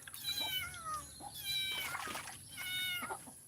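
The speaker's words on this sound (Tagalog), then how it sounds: "Yung pusa ko nasa taas, ang ingay." A cat meows repeatedly from somewhere above while fish is being cleaned, several drawn-out, fairly loud cries in a row with faint water trickling beneath.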